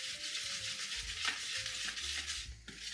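Flour batter for fried vegetables is stirred in a bowl, giving a steady wet swishing and scraping texture with small knocks, moderately close and without talk.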